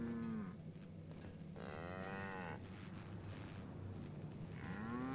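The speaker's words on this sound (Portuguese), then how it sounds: "De onde que vieram essas vacas?" Cows lowing loudly in the video game The Outer Worlds, several long drawn-out moos at the start, middle and end over a low ambient rumble.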